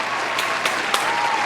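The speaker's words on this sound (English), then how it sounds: "You give your own self a round of applause." Applause from an audience at an interview with a record label CEO, steady clapping throughout at moderate volume with no talk.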